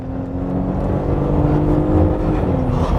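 A 2021 Porsche Cayenne E-Hybrid SUV with an eight-speed ZF automatic accelerates hard on a test drive, its engine drone building steadily and loud inside the cabin with a faint whine and no talk.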